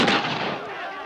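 A gunshot in a comedy vampire film, taken as silver bullets fired at a vampire: one loud, near report whose wash of sound decays over about a second, with no talking.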